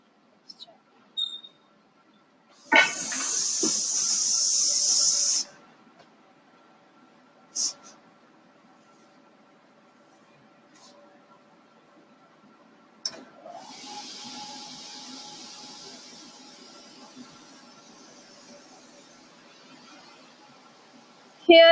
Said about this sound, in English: this is the individual control button for the suction system. When you open it, the suction will on.